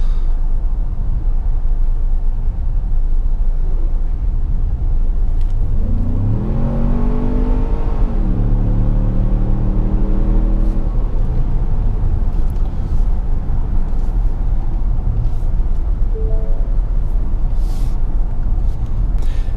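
2017 Ford Explorer Sport, a 365 hp twin-turbo SUV of nearly 5,000 pounds, accelerating hard from inside the cabin, with engine tone rising through gears under a steady road roar, then settling back.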